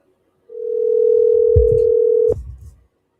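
Telephone dial tone heard while placing a call, one steady continuous tone about two seconds long that cuts off abruptly amid a couple of soft handling bumps.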